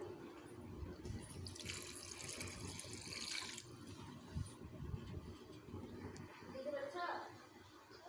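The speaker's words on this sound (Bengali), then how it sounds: "এবারে মাংসগুলোকে ভালোভাবে কষে নিয়েছি দিয়ে দেবো পরিমাণ মতো জল" Water pours into a pot of mutton being cooked, a continuous rushing splash close by, with a person speaking over it.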